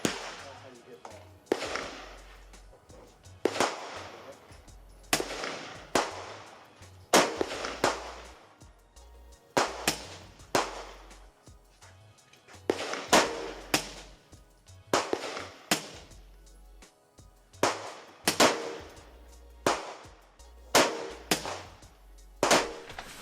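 Repeated AR-15 rifle shots fired offhand outdoors, sharp loud cracks spaced irregularly about one to two seconds apart, each with a short rolling echo, continuing steadily across the whole stretch.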